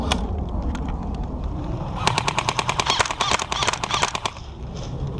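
Custom Evike airsoft M4 rifle firing a rapid burst of roughly twenty clicky shots in about two seconds during an outdoor airsoft game, fairly close, over a background of rustling and faint voices.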